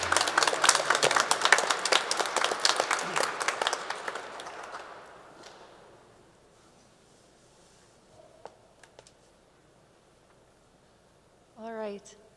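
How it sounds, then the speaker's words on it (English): A small gathering gives a warm round of applause for a guest speaker. The clapping is brisk and fairly close, fades out over about six seconds, and a few stray claps and a brief voice follow in the quiet. "So let's please give me a warm round of applause for Libby."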